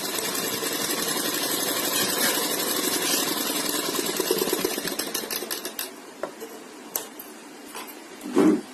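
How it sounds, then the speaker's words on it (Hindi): A sewing machine runs in a steady dense whir while stitching a sleeve corner, then slows into short separate bursts and a few clicks, ending with a brief louder thump. Nobody speaks. "कोने पे आकर फिर वापस सिलाई को घुमाएंगे और सीधी सिलाई लगाएंगे।"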